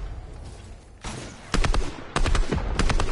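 Bursts of rapid gunfire crackle in quick volleys after a brief lull, loud and close, sounding like game weapon fire.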